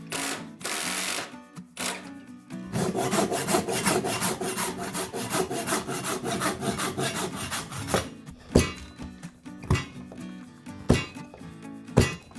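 A hand gimlet twisted into an offcut of natural wood with branches during a carpenter's home renovation, grinding with steady rhythmic scraping turns up close, followed by a few sharp knocks and clicks.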